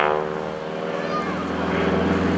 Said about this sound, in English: Diving down, getting up a little bit of airspeed here. Sound, gotta love it.